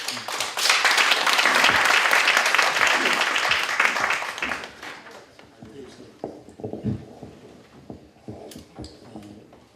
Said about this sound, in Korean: 부총장님 큰 박수로 맞이해 주십시오